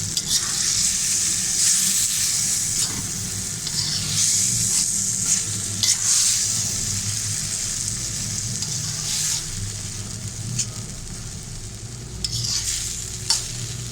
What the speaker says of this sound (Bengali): তেলটা উপরে চলে আসছে। এখন আমি ভালো করে মিশিয়ে নেব।